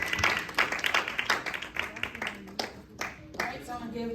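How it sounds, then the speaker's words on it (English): An audience at a father-themed panel applauds as a panelist is welcomed, scattered close claps mixed with chatter and a voice speaking over them, fading unevenly. "give a round of applause"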